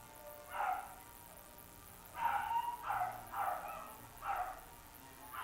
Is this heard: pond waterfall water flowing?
no